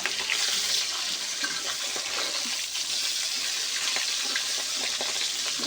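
Fish pieces deep-frying in hot oil, browned until crisp for a spicy fish curry, a steady dense sizzle and crackle running throughout with no talk.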